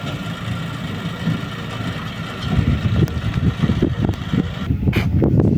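New tractor towing a trailer that carries a cow arrives on a farm; a steady low engine rumble, fairly close, with scattered knocks and clatters rising toward the end.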